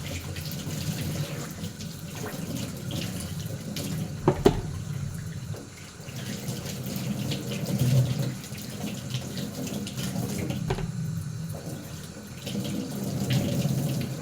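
Hot water runs steadily from a tap into a sink for washing, a constant rushing splash with occasional sharp clinks from items being handled beneath it, no voices present.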